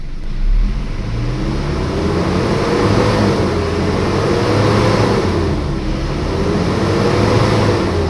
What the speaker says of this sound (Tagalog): itry nating i-rave ang makina at observe lang po tayo dito sa RPM kung hanggang saan lang aabot yung needle pointer nito